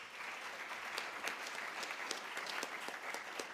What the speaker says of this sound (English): Let's have a round of applause to all of us.